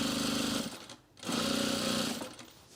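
A sewing machine runs close and steady while sewing the binding onto a rug, a rapid mechanical whir that stops briefly and then resumes.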